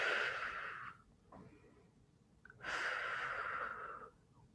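A slow, audible breath during a gentle yoga exercise with the knees, drawn in and out in two long airy waves separated by a quiet pause, close and alone without talk.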